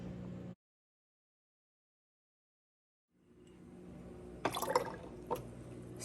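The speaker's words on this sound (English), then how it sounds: "I'm just going to start sanitizing these in the water" Glass jam jars are dipped into water for sanitizing: after a long silence, soft sloshing rises and a few sharp splashes and drips sound close by, all fairly faint.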